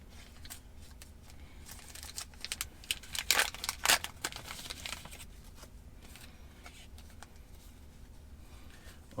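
Crinkling and tearing of a packaged screen protector film for a Tesla Model 3 central display being opened, a cluster of sharp crackles in the middle over a quiet, steady background.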